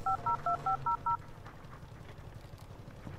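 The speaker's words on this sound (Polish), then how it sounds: "jeszcze spróbujmy zadzwonić do Alona na przykład" A telephone dials a call in the Blair Witch video game: six quick, evenly spaced touch-tone beeps ring out clearly, followed by quiet background hum.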